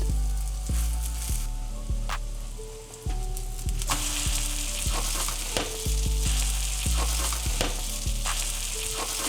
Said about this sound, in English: Now we're gonna fry this in some avocado oil. Add it to the pan and set your stove to medium-high heat.